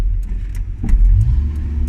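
Engine of a 1981 Ford Mustang cruising around a block at a street car show, a steady low rumble with a brief swell in revs, heard from inside the car.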